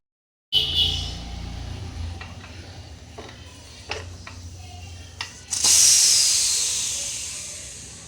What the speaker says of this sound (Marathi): आता आपल्याला कुकरचं झाकण लावून घ्यायचं आहे आणि दोन शिट्ट्या करून घेऊया